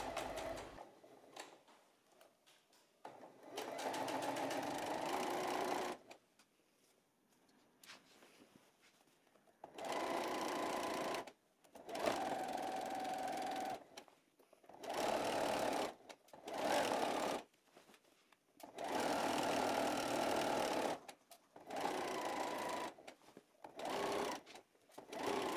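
Domestic sewing machine topstitching around the edge of a blouse, close and loud in repeated bursts of rapid mechanical stitching lasting one to three seconds, separated by short quiet pauses.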